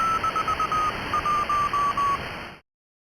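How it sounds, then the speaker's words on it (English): Morse code beeps from a radio at a Japanese radio station in Nagano, a clean mid-pitched tone keyed in short and long pulses against static hiss, ending abruptly. "Morse signal from space aliens."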